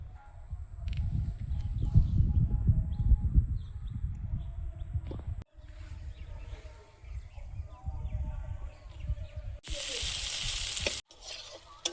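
Garden flat beans with turmeric and slit green chilies fry in a pan, a loud, busy sizzle at first that drops to a quieter hiss, with a brief noisy burst near the end.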